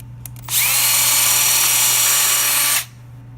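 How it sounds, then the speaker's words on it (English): A power drill with a tapered bit whines loudly for about two seconds after a couple of faint clicks, then spins down, close up with no talking. "And then using that tapered drill bit"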